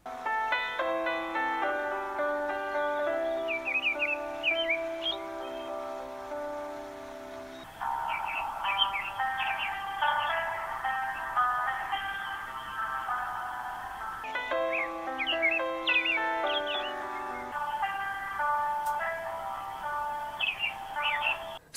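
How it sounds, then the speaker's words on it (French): A phone alarm melody plays through small smartphone speakers, a repeating bright tonal chime pattern with chirpy bird-like trills, steady and fairly loud, switching tone as different phones take turns. "comparer la qualité des haut-parleurs de chaque téléphone en écoutant le réveil"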